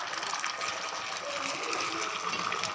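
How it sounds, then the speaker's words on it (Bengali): Beaten egg hitting a hot oiled pan for egg toast, a steady close sizzle and hiss that runs unbroken the whole time with no talking over it. "তেলটা গরম হয়ে গেছে, ডিমটা ঢেলে নিলাম"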